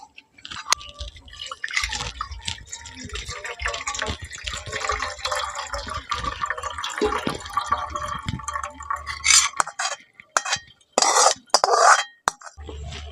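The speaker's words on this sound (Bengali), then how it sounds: "এই ছেঁকনির মধ্যে সুতির কাপড়টা এইভাবে করে দিয়ে দিচ্ছি এর মধ্যে ছানাটা ছেঁকে নেব" Curdled milk chhana poured through cotton cloth in a strainer for rosogolla, with close splashing, dripping and trickling liquid and light clinks of metal utensils, ending in a few sharper bursts of pouring.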